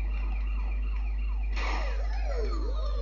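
Police siren in GTA Chinatown Wars, a steady wailing sweep that jumps louder and shifts pitch partway through, rising and falling over engine and game noise with no talk.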